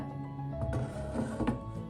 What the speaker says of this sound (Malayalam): ഇനി നമുക്കൊന്ന് മിക്സിയിൽ അടിച്ചെടുക്കാം തീരെ പൊടിയായി വേണ്ട